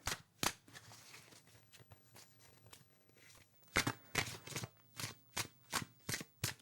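Tarot cards being shuffled by hand, a string of crisp riffling bursts, sparse at first then quicker and louder, close up in a quiet room with no talking.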